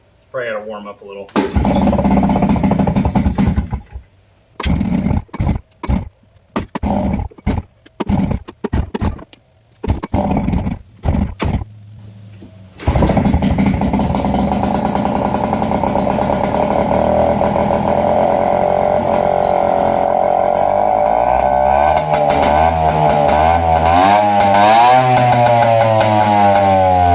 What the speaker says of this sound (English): I would call that a running engine.